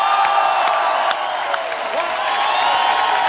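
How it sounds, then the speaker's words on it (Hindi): A studio audience on The Kapil Sharma Show welcomes Gurdas Maan with loud, sustained applause, a steady wash of clapping with a few whoops throughout. "आप सबकी जोरदार तालियों से स्वागत करना चाहूंगा"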